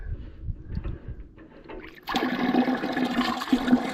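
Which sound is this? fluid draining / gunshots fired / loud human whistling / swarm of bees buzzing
fluid draining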